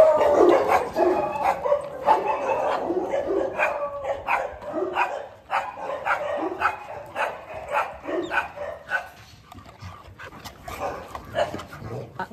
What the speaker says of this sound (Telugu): సో మనం డాగ్స్ ని చూడొచ్చు ఒకసారి?